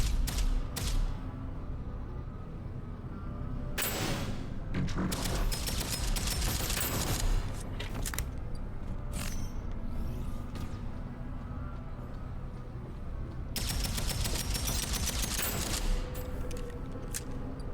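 Pistol gunfire in the game DeadZone Rogue, with clusters of quick shots punctuating a steady din of combat, firing in rapid volleys with short pauses between them.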